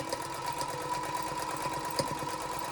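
A sewing machine runs steadily, stitching fabric with a quarter-inch seam allowance, its rapid mechanical whir and needle chatter continuous and fairly faint, with a small click near the end.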